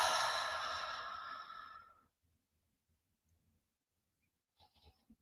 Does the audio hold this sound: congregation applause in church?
no